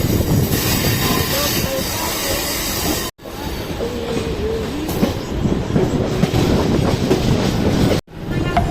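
A Mumbai local train running on the tracks toward Chhatrapati Shivaji Maharaj Terminus, heard from inside: a loud, continuous rumble with wheel clatter and squeals, cut by two brief dropouts.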